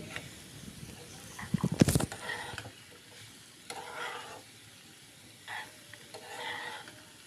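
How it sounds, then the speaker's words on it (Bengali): Vegetables for a singara filling stir-fried in a pan, a soft sizzle with a sharp clatter of the spoon early on and then quieter scraping strokes at intervals. "সব কিছু দিয়ে একটু হালকা করে কিছুক্ষণ ধরে ভাজি করব"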